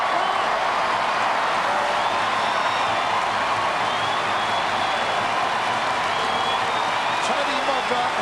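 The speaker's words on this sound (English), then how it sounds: "Listen to the crowd." A stadium crowd at a 1997 Adelaide vs St Kilda Australian rules football match roars and applauds after a 400th career goal. The loud cheering holds steady throughout, with voices mixed in.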